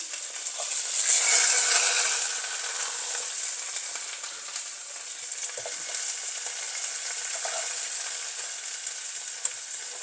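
Small and large onions with curry leaves and green chillies fry in a pan for a jackfruit-seed masala, a soft steady hiss that swells briefly early on, then holds quietly with faint scattered crackles.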